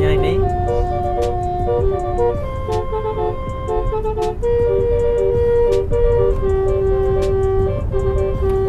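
A loud truck horn plays a continuous melody with bright, rattling angklung-like tones layered over it.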